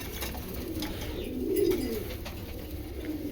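Racing pigeons in a loft cooing softly, a low murmuring coo rising briefly in the middle over a constant background hiss.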